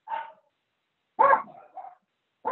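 Dogs bark at home in short bursts: one bark, then a louder double bark with a trailing yip, and another starting at the end, fairly close with silence between.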